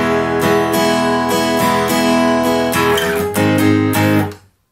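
Strummed guitar playing a short transition back into the verse chords, a steady series of bright chord strokes played alone up close, ending in a final strum that cuts off abruptly.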